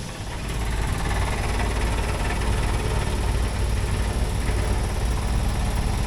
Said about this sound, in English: the main component here is the blower. You need air to blow, right?